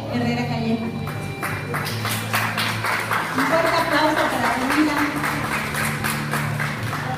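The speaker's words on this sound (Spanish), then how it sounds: "Un fuerte aplauso." Steady crowd applause for a kindergarten graduate at a final roll-call ceremony in Pinotepa, a dense continuous patter of many hands with voices and tonal sound running underneath.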